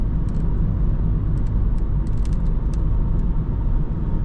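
Inside a Renault Megane 4 with the 1.5 dCi diesel and dry-clutch automatic, a steady low cabin rumble of engine and road noise continues through a corner at about 76 km/h, with a few faint clicks.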